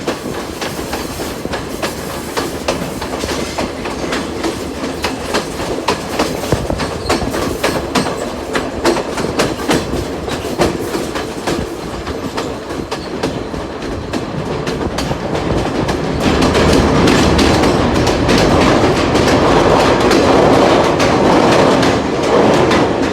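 A train rolls along rails at night in Sri Lanka near Ella, with a steady loud rumble and rhythmic clickety-clack of wheels on the track that grows louder toward the end, with no talking.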